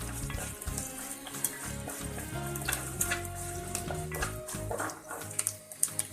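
Chicken thoran frying in a pan and being stirred steadily, a constant close sizzle with scraping and clatter from the spoon throughout, no voices.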